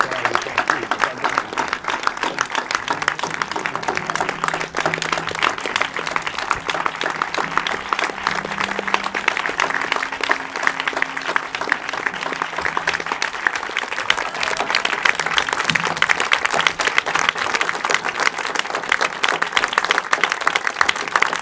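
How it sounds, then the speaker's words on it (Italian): Sustained audience applause at a film screening event in Venice, dense steady clapping from a large crowd lasting throughout, loud and continuous. "con un grande applauso, Giuliano Montaldo"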